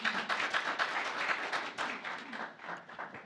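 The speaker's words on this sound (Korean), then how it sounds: "큰 박수로 맞아주시기 바랍니다." Applause from a seminar audience on real estate price disclosure reform, a dense, steady roomful of clapping that swells and then tapers off, with no talk over it.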